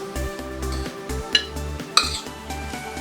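A spoon scraping and clinking against a pot while stirring a ground carrot, beetroot, corn and chilli mixture for vegetable cutlets, with two sharper clinks and a low background hum.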